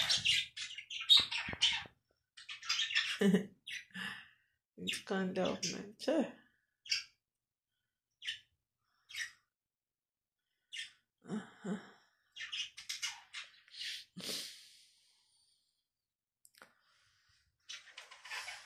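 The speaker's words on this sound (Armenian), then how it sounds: "եկեք թութակներիս նայենք" Pet parrots chirp and squawk in a series of short, bright bursts, fairly close. Someone talks briefly between the calls.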